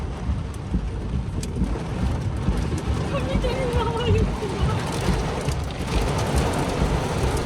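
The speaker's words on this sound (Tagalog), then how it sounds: "Sobrang lakas ng ulan." Heavy rain pounds a road in a steady dense roar, with thunder-like low rumbles and sloshing water, and faint voices underneath.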